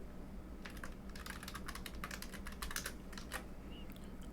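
Rapid keystrokes on a computer keyboard as a name is typed, a dense burst of clicks in the middle with a few isolated taps toward the end, quiet and close over a low steady hum, with no voice.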